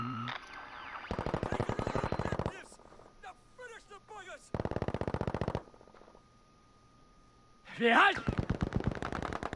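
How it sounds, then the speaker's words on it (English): Video game machine gun fire from a CCL league match rattles in rapid sustained bursts, several long strings of shots separated by short pauses, loud and close, with a voice speaking briefly between them. "I heard machine guns being shot from somewhere"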